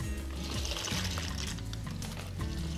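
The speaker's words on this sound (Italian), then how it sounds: "l'acqua bolle, pizzico di sale grosso e andiamo a metterci la pasta" Conchiglie pasta shells tipped into a pot of boiling water salted with coarse salt, giving a steady watery pouring and bubbling wash that runs continuously and fairly loud throughout.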